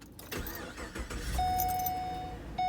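Pontiac G8 GT engine starting up, a quick starter crank catching into a steady mid-pitched idle rumble close by, with a brief chime tone sounding during the idle and no talking.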